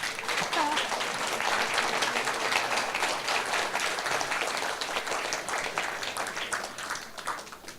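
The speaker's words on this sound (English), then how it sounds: "And a new big applause," Sustained applause from a crowd at a formal agreement signing ceremony, dense and steady clapping that holds loud for several seconds, with faint voices mixed in, then tapers slightly toward the end.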